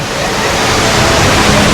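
Water roars continuously from the tall indoor waterfall at Jewel, Singapore's Changi Airport, a dense, loud, even rush of falling water filling the space with no break.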